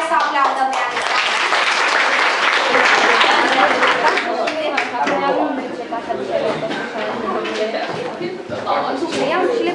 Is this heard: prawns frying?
no